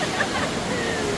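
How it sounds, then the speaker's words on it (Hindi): Water pours down from above into a canal at an indoor water feature inside a Singapore mall, a steady, dense rushing wash with no pauses. "वो ऊपर से पानी आता है और ये पूरा कनाल उसके अंदर ही है"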